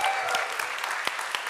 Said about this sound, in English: huge round of applause for healthcare